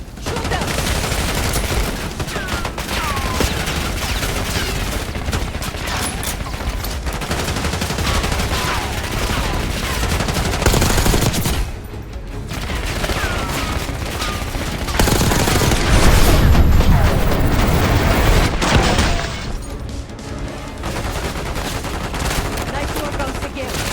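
Dense, sustained gunfire in Call of Duty: Black Ops 6, rapid automatic bursts and explosions layered continuously, loud and close, with brief dips in intensity and voices shouting commands underneath.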